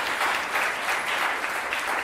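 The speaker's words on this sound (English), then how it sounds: "Nice round of applause." A round of applause from the audience at a public forum on threats to public officials, a steady, even wash of many hands clapping throughout with no break.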